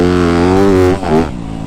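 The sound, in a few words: Yamaha YZ250F dirt bike engine revving in sand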